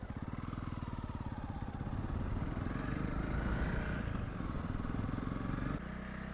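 A Honda CRF 300 Rally motorcycle rides along a coastal road, its single-cylinder engine thumping rhythmically up close. The pitch rises briefly under throttle before settling into a lower steady idle near the end.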